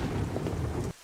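A night thunderstorm with heavy rain, a dense steady roar of downpour and rumbling that cuts off abruptly near the end.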